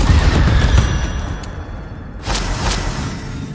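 Incendio, the fire spell, is cast in Hogwarts Legacy with a loud crackling burst that fades, followed by a second sharp flare a moment later.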